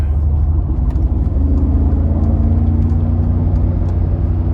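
A 2015 Mercedes-Benz G63 cruises on the road, heard from inside as a loud steady low engine and road rumble with a faint rising drone, no voices.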